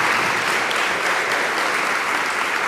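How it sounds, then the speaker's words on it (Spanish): An audience bursts into dense, continuous applause at a Catholic question-and-answer gathering. The clapping stays loud and steady throughout, with no talk over it. "Aplausos pues para el Señor y para este hermano"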